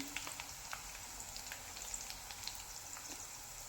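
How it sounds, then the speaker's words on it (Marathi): Shev made from gram flour noodles deep-fries in hot oil, giving a soft, steady bubbling sizzle dotted with small sharp crackles, quiet and close with no talking. "आणि दोन्ही साईडून छान अशी तळून घ्यायची"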